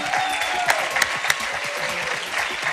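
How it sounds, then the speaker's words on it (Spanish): Audience applause filling an award ceremony hall, a steady dense clapping with a few sharper claps standing out, continuous and fairly loud throughout. "así que pueden aplaudir"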